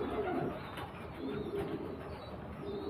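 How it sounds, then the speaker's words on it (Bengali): A pair of rare Sylheti Kamagar pigeons coo in soft, low, repeated rolling bursts, close and steady against a faint background hiss. "এই দেখুন পায়রা দুটো বিচ্ছু ব্রিডের আছে, সিলেটি কামাগার, খুব রেয়ার পায়রা।"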